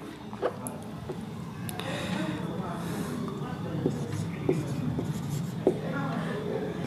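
Pen writing a sentence on paper, a soft continuous scratching broken by small taps and strokes, heard close and steady.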